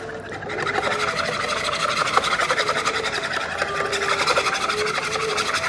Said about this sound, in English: give everything a little bit of a whisk to combine